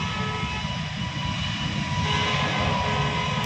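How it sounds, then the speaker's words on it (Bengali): Airplane taking off, a steady loud roar of engines with broad rushing noise and faint tonal whine, continuous and close without pauses, no talk. "দেখ উড়ছে এবারে, সামনের চাকা উঁচু হচ্ছে আস্তে আস্তে, ওই উপরে উঠে গেছে।"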